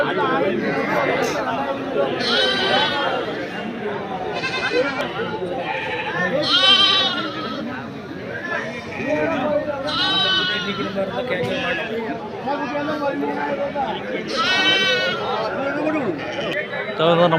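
Goats and kids bleating at the Mylampadi goat market, with repeated wavering bleats rising over constant crowd chatter and people talking close by throughout.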